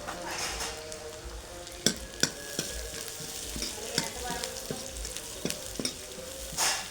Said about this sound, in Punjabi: ਚੰਗੀ ਤਰ੍ਹਾਂ ਇਹਨਾਂ ਨੂੰ ਆਪਾਂ ਭੁੰਨ ਲੈਣਾ ਮਸਾਲੇ ਨੂੰ